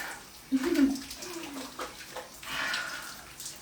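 Shower water runs steadily during rinsing, a soft, continuous spray with small splashing swells, and a voice briefly murmurs near the start.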